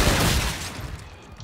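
Rapid automatic gunfire from a Call of Duty Infinite Warfare zombies match, a dense burst of loud shots that trails off and fades within about a second.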